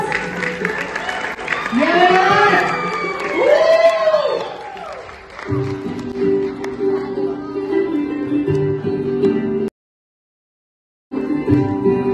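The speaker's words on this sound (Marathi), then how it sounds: "अरे टाळ्या बघा बॉस" A crowd at a haldi celebration claps and cheers, loud and dense at first, then the noise settles under steady music before a brief silent gap and a return of the party sound.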